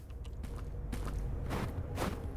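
Footsteps crunching on snow in the horror video game Missing Hiker, a few soft steps at a walking pace, faint and close, over a low ambient rumble.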